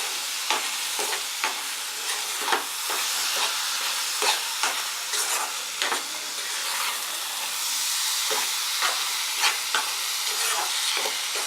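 Coconut puran poli filling being stirred in a hot pan until thick, a continuous sizzling hiss broken by regular scraping strokes of the spoon, close and steady.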